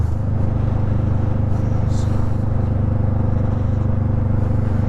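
Steady motorcycle engine drone at riding speed in Albuquerque rush-hour traffic, loud and close with constant wind and road rumble throughout.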